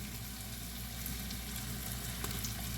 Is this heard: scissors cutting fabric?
no